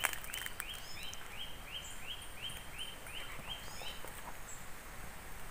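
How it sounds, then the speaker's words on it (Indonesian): Birds sing faintly from a distance in a teak forest wildlife sanctuary, a repeated chirping phrase coming in a steady rhythm over a soft, hissy outdoor background. "Di sini ada suara burung, tapi nggak kelihatan burungnya ada di mana."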